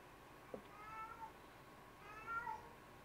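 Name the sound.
cat meowing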